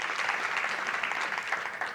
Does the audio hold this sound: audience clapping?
yes